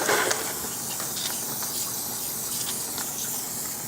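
Water spray hisses steadily as cleaner is rinsed off an air conditioner coil, a continuous close, even wash of sound with no talking.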